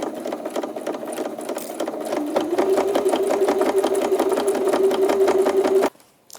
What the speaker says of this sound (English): straight stitch on your sewing machine. Just sew around to create this little channel for the elastic.